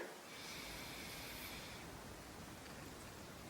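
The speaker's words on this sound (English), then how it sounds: "Close your left nostril. Exhale from the right. Inhale from the right." Slow nasal breathing through one nostril during alternate nostril pranayama (Nadi Shodhana), a soft, close airy hiss that stays steady and alone.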